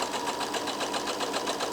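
A Brother Innovus sewing machine stitches steadily, its fast, even mechanical whir and needle clatter running continuously at close range with no pauses.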